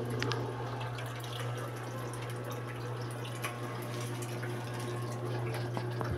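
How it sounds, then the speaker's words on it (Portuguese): Electrolux 8 kg washing machine rinsing blankets, giving a steady wash of running water with a constant low motor hum and scattered drips and splashes throughout, close and continuous with no talking. "Pronto, pode continuar o enxágue."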